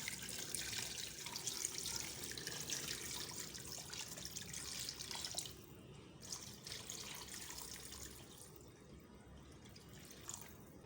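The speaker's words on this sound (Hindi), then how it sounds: "तो मैं इसके अंदर पानी डाल दूँगी।" About three litres of water pour steadily into a pot of mutton trotters with a bright splashing rush, then quiet to a softer trickle partway through.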